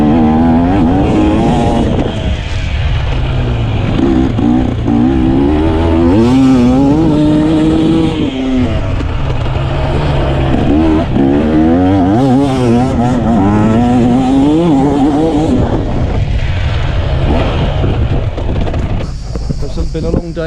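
A 2024 GASGAS enduro motorbike engine revs steadily and loudly throughout off-road riding, its pitch rising and falling with throttle changes, with no pauses.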